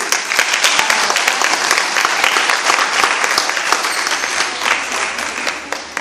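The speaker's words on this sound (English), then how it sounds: "I'm asking you to be a very, very great audience and applaud wildly" An audience at a summer music academy's final showcase claps for a students' ensemble, a loud, dense burst of close applause that continues for several seconds and slowly thins toward the end.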